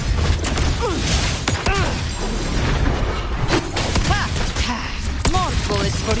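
Rapid bursts of gunfire from the Wuthering Waves video game ring out in a dense, busy combat mix, with booms, whooshes and thuds layered in. Voiced callouts sound at intervals over the shots.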